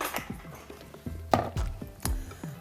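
Sugar and flour tossed together in a mixing bowl for a black pepper strawberry galette, giving a run of soft scraping and light knocking sounds, close and irregular, with a few sharper taps against the bowl.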